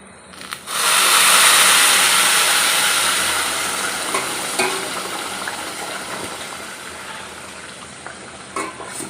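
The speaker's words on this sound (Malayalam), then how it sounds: "ഇനി ഈ വെള്ളം നമുക്ക് അരിയിലോട്ട് എടുത്ത് ഒഴിക്കാം" Boiled water is poured into a pot of rice for prawn biryani, setting off a sudden loud hissing rush that gradually settles into a softer, steady bubbling sizzle with a few faint clinks.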